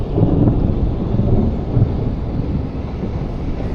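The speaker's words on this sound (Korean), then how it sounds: "지금 천둥 번개도 치고 날씨가 많이 안 좋습니다" Thunder rumbles low and heavy through steady rain over the sea during an octopus-hunting dive in a storm, a loud continuous roar with no speech.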